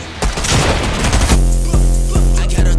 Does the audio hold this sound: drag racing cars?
no